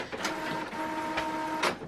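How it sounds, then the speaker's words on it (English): A printer running while it prints a sheet of heat transfer printable vinyl: steady mechanical whirring with faint tonal hum and a few brief rattling bursts as the carriage moves, close and continuous throughout. "the printer is going to kick on"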